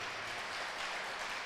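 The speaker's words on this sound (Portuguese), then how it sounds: "dê um aplauso a ele" A church congregation gives a continuous, dense round of applause, many hands clapping at once in an even, slightly distant roar that holds steady without a break.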